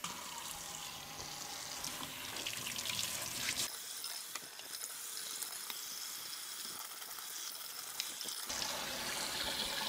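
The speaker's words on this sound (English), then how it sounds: "This is probably the most tedious part of the whole process, washing the carrot" Carrots are washed under a running kitchen tap, giving a steady close hiss of flowing water with brief splashy shifts as the stream is interrupted midway, then resuming.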